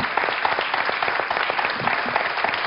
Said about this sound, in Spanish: Este aplauso para ti,